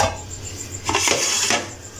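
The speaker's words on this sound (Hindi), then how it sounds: "बर्तन धो रहे साथ साथ तो फिर ज़्यादा जमा नहीं होता।" Breakfast dishes, pots and cutlery being washed by hand in a home kitchen, with a few clattering clinks of metal and crockery over running water, louder in the middle, no talking.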